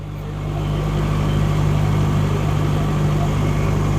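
A Timberwolf TW280 FTR wood chipper's engine rumbles steadily and close with a deep, even drone, swelling slightly at the start and then holding a constant level with no talk over it.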